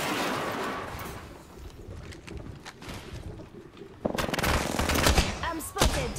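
Rapid automatic gunfire rattles in bursts during a Halloween-themed Apex Legends trios match on the Kings Canyon map, growing louder and denser in the second half with overlapping shots.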